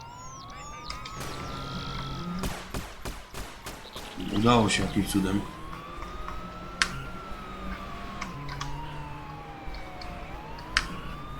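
In GTA San Andreas, a wailing police siren rises and falls repeatedly alongside clicks and a burst of game effects, with someone talking over it.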